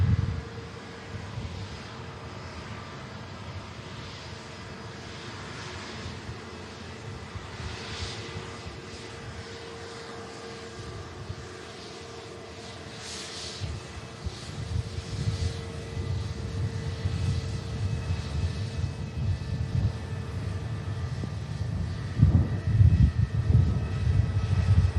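Airliner passing at Manchester Airport, a low, broad jet roar that stays faint at first, then swells steadily louder toward the end as the aircraft nears.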